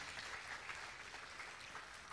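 Applause from an audience at a Peruvian class session, steady and dense throughout with no break, fairly soft and a little distant.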